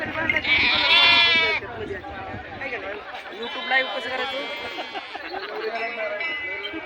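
Sheep bleat loudly up close at a Balumama palanquin procession, several overlapping calls with chatter and activity from a flock in the background.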